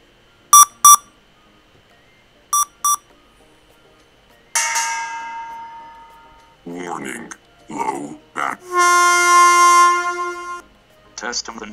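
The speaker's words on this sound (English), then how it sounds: "Beep." Short electronic beeps sound in a quick group, then separate synthesized tones, some sustained and harmonic-rich, with gaps of silence between them, played as test sounds through the ROS audio_common stack.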